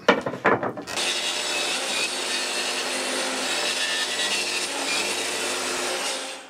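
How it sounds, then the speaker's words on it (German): A power saw rips a length of wood lengthwise in a workbench shop: a few short bursts of cutting, then a steady loud whine through the board for several seconds before it winds down. "Das muss der Länge nach durchgeschnitten werden."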